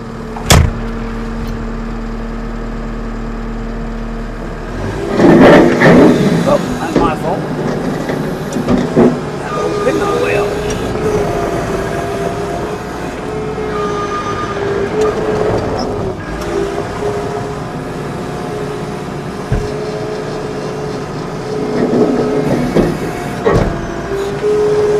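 A 2011 Case SR220 skid steer loader with about 400 hours runs at idle, its diesel engine note dropping as the throttle is pulled back, with a few knocks and clunks from the machine over a steady rumble.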